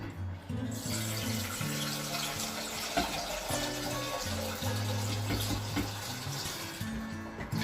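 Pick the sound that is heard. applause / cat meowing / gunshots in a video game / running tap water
running tap water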